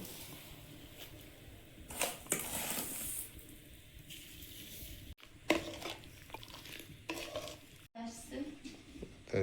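Sugar syrup cooking and being stirred as it thickens for a sweet, a soft bubbling simmer under spoon scrapes and occasional clinks against the pot, fairly quiet and close.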